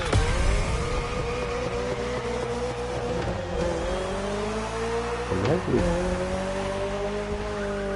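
Mazda Miata engine in the racing game The Crew Motorfest, a continuous droning whine rising and falling through gear shifts, with a brief tire squeal midway, loud and steady throughout.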